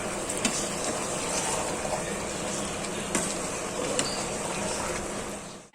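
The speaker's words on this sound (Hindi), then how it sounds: "अब हम इसमें हरी मिर्चें डाल देंगे और जो छोले हमने बॉईल किए थे वो डाल देंगे। और मिक्स कर लेंगे।" Green chilies and boiled chickpeas hiss and sizzle steadily in hot oil for a chana pulao, loud and close, with a few sharp pops and scraping clicks as the mixture is stirred, with no voices.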